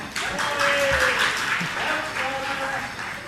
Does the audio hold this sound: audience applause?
yes